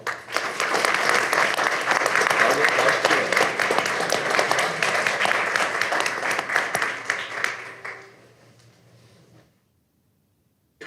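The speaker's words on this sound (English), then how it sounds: "1 minute round of applause." Loud, sustained round of clapping at a city council meeting in Greer, South Carolina, with dense individual claps that hold steady for about eight seconds, then thin out and stop.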